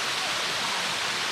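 Waterfall at Hatcher Waterfalls in St Vincent, a steady broadband rush of falling water filling the whole clip at close range, with no pauses or speech.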